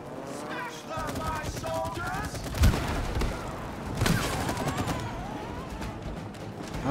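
Rapid gunfire aimed at targets in the video game It Takes Two, a dense, continuous rattle of shots with a few heavier bursts, close and loud, mixed with faint game voices.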